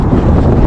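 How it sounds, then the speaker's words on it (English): Wind blowing across a frozen lake, a steady low rumbling buffet on the microphone that runs through the whole short stretch with no voices. "It's still a little bit windy"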